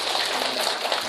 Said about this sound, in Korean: 우리 박수 한 번 더 치시고